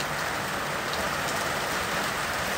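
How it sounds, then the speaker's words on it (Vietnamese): Heavy rain pours steadily on a rainy day, a dense, loud, unbroken hiss of drops hitting surfaces up close, with no voices over it. "Thứ hai á, là mưa nó ồn lắm"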